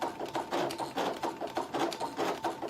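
A Brother ScanNCut cutting machine running a 3D paper cut for a nativity star shadow box gives off loud, close, rhythmic mechanical whirring that pulses steadily throughout with no voices.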